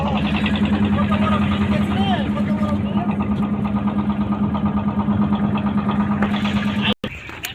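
A trawler boat's engine on the Padma river drones steadily and loudly up close with a rhythmic low chug, while someone talks continuously over it until a brief break near the end.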